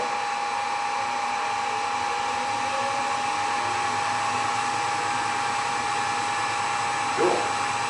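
A 1961 Hardinge Chucker lathe runs steadily at speed, a constant close whine with a high tonal hum that holds unchanged throughout, with a brief faint scrape near the end.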